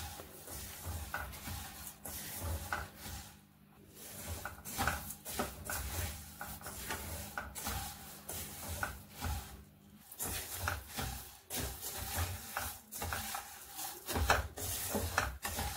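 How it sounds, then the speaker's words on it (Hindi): Spices with coriander are stirred and dry-roasted in a pan, producing a continuous soft scraping and gentle sizzle with irregular rubbing strokes throughout. "तो कंटिन्यू हमें चलाते हुए मसाले को भूंज लेना है पहले।"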